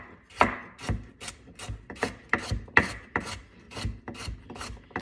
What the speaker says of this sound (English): cutting up my carrots